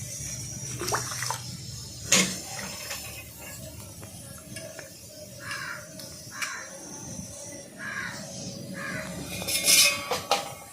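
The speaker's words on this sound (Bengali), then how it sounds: "তারপর সেটাকে জল দিয়ে ভালো করে ধুয়ে নিলাম" Gima greens being washed by hand in water, with sloshing and splashing in irregular bursts, close by, while crows caw now and then in the background.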